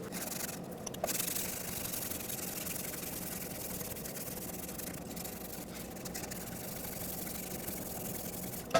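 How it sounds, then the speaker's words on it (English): Steady fine-grit 400 sandpaper rubbing over the surface of an exhaust manifold from a 2004-2009 Ford F-150 with the 5.4L 3-valve V8, continuous and close, with no talking. "When you use this sandpaper, make sure it's something fine. I'm using 400 grit."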